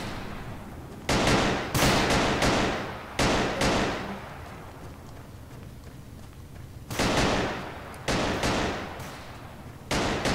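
Gunfire from the video game BattleRush rings out in several loud, rapid bursts separated by quieter gaps, with bursts arriving in clusters at the start and near the end.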